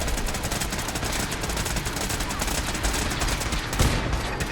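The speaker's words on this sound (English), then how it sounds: "Okay, something's definitely shooting back." Sustained automatic gunfire in Fallout 4 rattles continuously as turrets are fired on, a dense, unbroken barrage with a heavier burst near the end.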